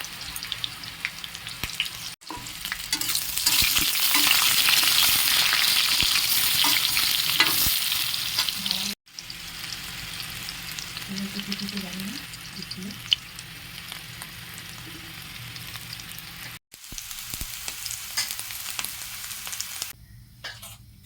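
Parboiled potatoes fry in hot oil in a kadai wok with a pinch of turmeric, a steady close sizzle with scraping stirs, briefly cut in places and easing toward the end.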